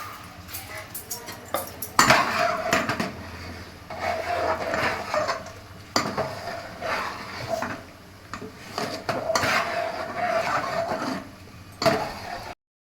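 Grated coconut and broken rice stirred in a pot, with repeated scraping and clinking strokes of a ladle against metal in uneven bursts, close up and without voices.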